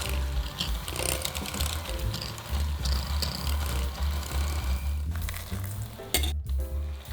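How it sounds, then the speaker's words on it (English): An electric mixer beats churro dough as eggs are added, giving a continuous close mechanical whir with a low hum and a rattling, clicking texture throughout. "slowly add the eggs in a thin stream, a little at a time, while mixing everything together with a mixer"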